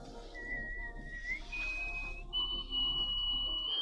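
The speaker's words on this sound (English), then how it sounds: "She holds the Guinness Book of World Record for nose whistling." A Canadian woman who holds a world record for nose whistling produces clear, sustained nasal whistle tones, stepping between a few pitches in long held notes, with no talking.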